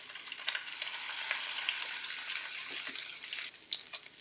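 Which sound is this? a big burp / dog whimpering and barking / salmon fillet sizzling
salmon fillet sizzling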